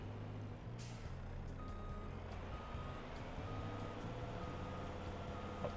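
In a snowy Farming Simulator 25 scene, a heavy vehicle reverses with a steady, repeating electronic warning beep. The beep sits over a low engine rumble and a faint hiss of air brakes.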